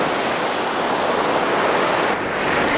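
Ocean waves at a beach on a cloudy day, a loud continuous roar of surf washing in steadily with no pauses.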